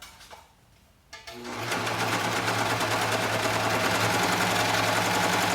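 A serger sewing machine stitches through a piece of fabric, the presser foot and blade cutting and overlocking the edge, starting after a brief quiet moment and then running in a loud, steady, fast-humming whir close up.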